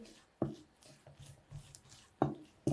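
Thick eclair choux pastry dough being mixed by hand with a spoon: a few soft, sticky thuds and scrapes at an irregular pace, close and quiet, with no talking.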